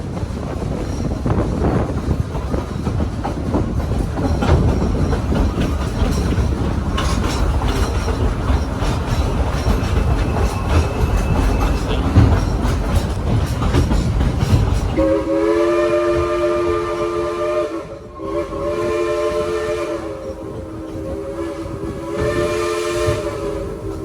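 A steam train, the Dollywood Express in the Smoky Mountains of Tennessee, rumbles steadily along the rails, then a long, layered whistle blares several times, loud and close over the continuing rumble.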